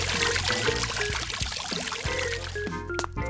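A cartoon urine stream effect in a Play-Doh Peppa Pig story plays as a loud, continuous pouring trickle with bubbly watery gurgles, running steadily for a few seconds.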